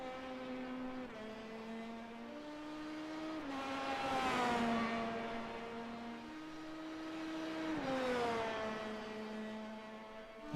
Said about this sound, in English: Love watching these cars swoop around these final corners here at Interlagos.